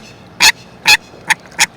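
Swans and wild birds being fed call out in four short, loud honking bursts, spaced unevenly and close by, with no talk over them.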